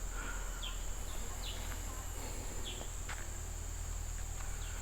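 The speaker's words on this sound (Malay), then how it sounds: "Bunyi-bunyi unggas-unggas, bunyi serangga, bunyi burung." Forest ambience at a wooded campsite in Bukit Tasik Serendah: a steady high insect drone runs throughout, with short bird chirps scattered across it and a low constant hum beneath, with no talking.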